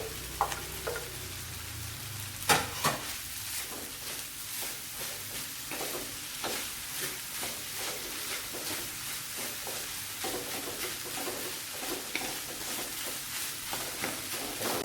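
Squid is stir-fried in a hot wok for nasi goreng teri Medan, giving a continuous close sizzle broken by frequent scraping and clattering stirring strokes.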